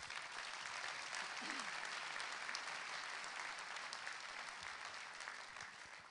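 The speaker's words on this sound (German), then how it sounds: "Also nochmals ein herzliches Dankeschön und Ihr Applaus." Festive guests at a spring fair gathering clap for a trials champion, a sustained, soft and distant round of applause that stays even and slowly tapers off.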